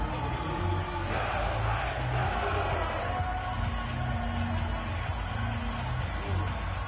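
Stadium crowd noise from a Madden football video game on PS4, a steady roar swelling ahead of a big third down late in the half, continuous and fairly loud throughout with no clear talk over it.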